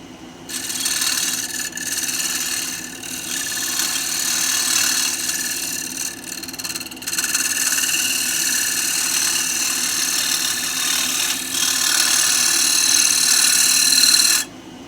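Wood lathe spinning a piece of ipe while a tool cleans ridges from it, a steady motor hum under a loud, continuous scraping hiss that swells and breaks off in several passes, close and without speech.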